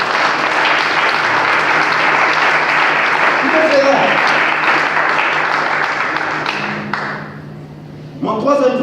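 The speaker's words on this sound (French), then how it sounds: "Est-ce qu'on peut applaudir le Seigneur Jésus?" A church congregation applauds in a loud, dense wash of clapping that holds for several seconds, then fades as a voice begins speaking.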